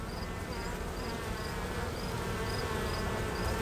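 A dense, continuous hum of honey bees fills an open hive during a supers inspection while new bees hatch, with short higher-pitched buzzes recurring every half second or so close by.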